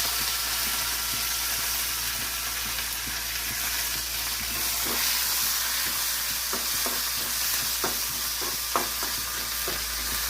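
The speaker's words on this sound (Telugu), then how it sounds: "తాలింపు గింజలు వేగాయి. చిన్నులపాయ గర్భాలు కూడా పెట్టుకున్నానండి. కరివేపాకు వేసుకున్నాం." Mustard and other tempering seeds, curry leaves, garlic cloves and onions fry in hot oil with a constant close sizzle. Scattered sharp crackles and pops come through, and there is no talk.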